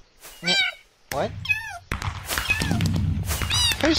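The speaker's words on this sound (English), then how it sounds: "Who's torturing that poor kitty?" A cat in the Minecraft video game meows in several short, wavering cries, loud and close, mixed with thumps and busy game noise.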